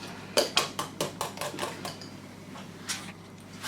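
Custard being mixed in a bowl, a series of sharp close clinks and taps of a utensil against the bowl in quick uneven strokes, quiet with no talk.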